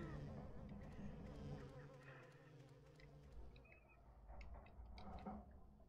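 Wasp-like insects buzz in the Silent Hill 4 game, a low, faint drone with scattered ticking over dark ambient noise.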